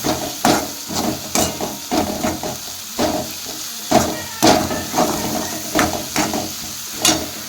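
Green chilies and green garlic hitting a hot pan, with bursts of sizzling and crackling spatter that repeat in uneven pulses, close and fairly loud, with no talk.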